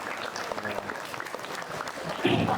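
Steady applause from a school audience for a hadroh group at an Isra Mi'raj commemoration, continuous clapping throughout with a brief louder swell near the end.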